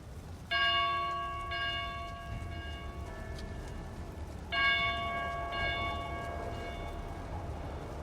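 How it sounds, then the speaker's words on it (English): A small bell in a church belfry rings out clearly in two pairs of strikes, each tone hanging and slowly fading against a quiet outdoor background with no talking. "the sound of one of the smaller bells from one of the belfries can be heard ringing"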